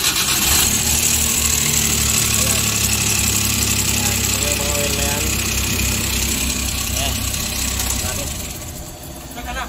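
A Suzuki K6A engine with a knocking fault, oil-soaked after a leak, starts up and keeps running with a steady loud rumble and vibration, while someone talks over it.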